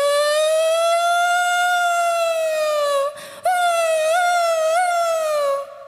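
A person's voice imitates a police or ambulance siren, holding one long rising and falling wail that breaks off briefly, then resumes with small warbles. It is loud and close, with no talk over it.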